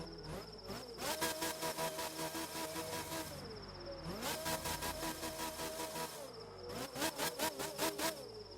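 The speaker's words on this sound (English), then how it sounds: "let's take a listen to that engine." In the racing game The Crew 2, the Proto Concept Spear race car engine screams through three high-pitched bursts of revving. Each burst climbs through the gears with short dips at the shifts, and brief lulls come between bursts.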